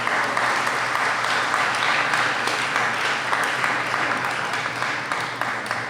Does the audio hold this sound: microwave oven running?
no